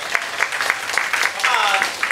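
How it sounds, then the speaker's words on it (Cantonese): An audience at a discussion forum in Hong Kong claps, a scattered patter of hands that thickens into fuller applause partway through, with a voice speaking over it. "今日就掌聲鼓勵大家坐低"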